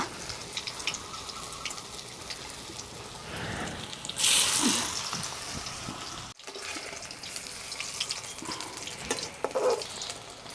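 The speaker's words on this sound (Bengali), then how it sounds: "তেল গরম হয়ে গেছে এবার এক এক করে তেলে দিয়ে দিয়ে ভেজে নেব" Hot oil crackles and sizzles near at hand as pieces for a vegetarian fish-style dish fry, surging louder partway through as more pieces go in, then settling back to a steady fry.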